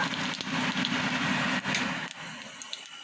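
Nigella seeds tempering in hot oil in a kadai for a vegetarian pumpkin and potol dish, a dense steady crackling sizzle filling the whole stretch, close and loud, dropping slightly near the end.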